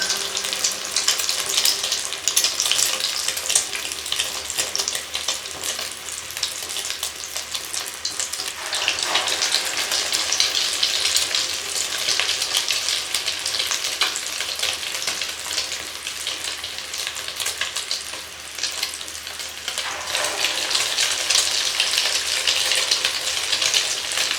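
Beef shami kababs fry in hot oil with a dense, continuous sizzle, close and fairly loud, holding steady for over twenty seconds with brief dips and a few faint clinks, and no voices.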